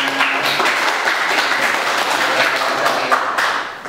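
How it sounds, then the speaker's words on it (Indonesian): A class claps together during a lesson, producing a dense, steady burst of applause at moderate loudness that tapers slightly at the end, with a faint voice underneath. "Oke, tepuk tangan untuk kita semuanya."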